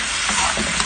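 Chicken gizzard adobo with soy sauce and black pepper is stirred in a pan, giving a close, steady sizzle with scraping stir strokes throughout a brief moment, no talk.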